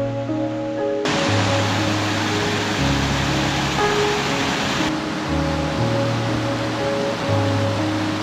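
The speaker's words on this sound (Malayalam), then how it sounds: "ഇവിടെയൊക്കെ ഓരോരോ അരുവികളൊക്കെ ഒഴുകുന്നുണ്ട്." Mountain streams rush through a snowy Himalayan forest near Manali on the Lama Dugh trek, a dense, steady roar of flowing water that shifts in strength a couple of times, close and unbroken, with no speech.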